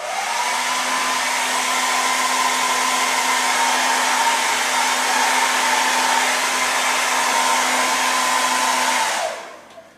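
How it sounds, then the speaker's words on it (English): A hair dryer blasts steadily onto a thermochromatic t-shirt, a loud continuous whooshing roar with a steady motor whine that runs unbroken for about nine seconds before being switched off and winding down. "I'm just going to blast myself with a hairdryer"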